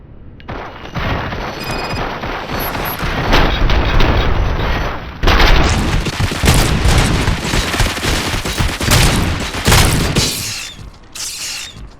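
Sustained gunfire and mechanical clatter from Robocop: Rogue City, loud and dense bursts of shots with impacts and booms, a brief gap midway before the barrage resumes, with no one talking.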